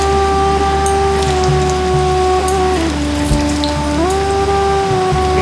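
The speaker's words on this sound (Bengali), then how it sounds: "তাহলে আমি প্রথমে আলুগুলোকে ভেজে নিচ্ছি তেলে।" Potatoes frying in oil for Bengali chicken kosha, a dense, steady crackling sizzle close and loud throughout, with a faint tonal hum running underneath.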